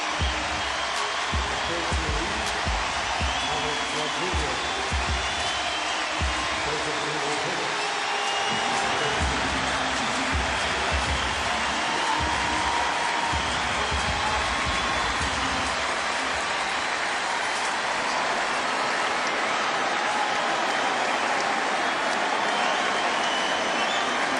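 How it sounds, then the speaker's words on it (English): Stadium crowd at a 2007 Royals baseball game giving Alex Rodriguez a standing ovation for his first at bat: a loud, sustained roar of cheering and clapping that fills the whole stretch without pause. "Well, a standing ovation for Alex Rodriguez."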